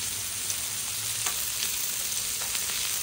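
Shrimp sizzle on a Blackstone griddle in a steady, bright frying hiss with a few small pops and ticks, close and continuous with no voices.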